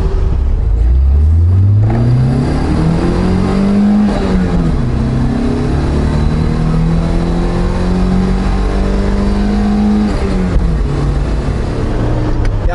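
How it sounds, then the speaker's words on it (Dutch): A 1988 Opel Manta GSi's engine revs up through the gears while driving, its pitch climbing steadily and dropping at each shift, loud and close, with no talk. "Het is ook wel een motortje wat past bij het merk Opel."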